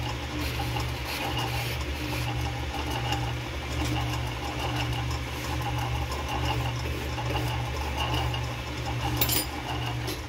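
A restored wood planer fitted with rebuilt drive rolls runs steadily, a continuous close mechanical whir and hum holding an even level throughout, with no talking.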